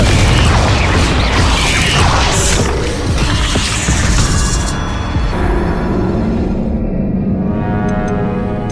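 A Confringo blasting-spell explosion in the video game Hogwarts Legacy: a loud, rumbling blast and crashing debris that slowly fade into ringing and ticking mechanical sounds.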